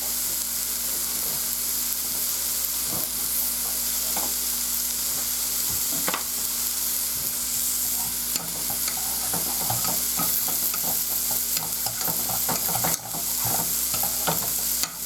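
Steak sears in a hot pan with a dense, continuous sizzle and crackle that lasts the whole stretch, broken by scattered pops and the occasional scrape of a utensil. Nobody speaks.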